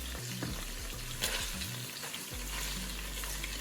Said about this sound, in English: So you just want to fry it until it browns on the outside.